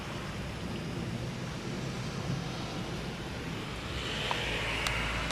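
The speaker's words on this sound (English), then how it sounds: "It's really raining now." A summer thunderstorm brings a steady wash of heavy rain with a low, rolling rumble of thunder swelling toward the end, continuous and fairly close, with no talking.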